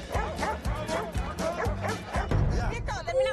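Dogs barking and yipping in a busy outdoor street scene during a lively game show, several sharp barks in quick succession close by, mixed with excited voices talking over them.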